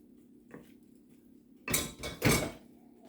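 Macaroni tossed with fried vegetables in a pan, stirred in a few loud scraping, clattering bursts near the end after a quiet start with one soft knock.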